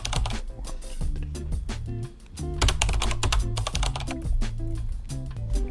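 Rapid, uneven keystrokes on a computer keyboard as a password is typed, close and fairly loud, with brief pauses between bursts and no talking.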